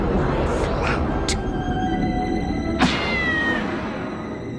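A cat meows a few short times over a steady background of music and ambient noise, fairly close and clear.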